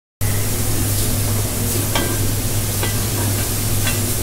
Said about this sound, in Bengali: পেঁয়াজটা আমি এখন বাদামি কালার করে নেব, দেখতে থাকুন।